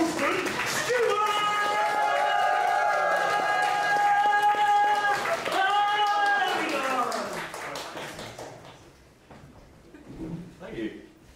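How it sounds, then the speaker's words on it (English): A stand-up comedy crowd at UKC stamps its feet and claps loudly for the next act, a steady thumping roar over sustained musical tones that fades after about eight seconds. "Stamp your feet! Clap your hands!"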